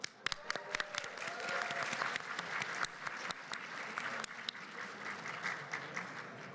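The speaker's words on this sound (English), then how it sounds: "Give him a round of applause." Audience applause at a PAX East Animal Crossing panel, a sustained round of clapping from a crowd with scattered sharp claps standing out, heard from a distance.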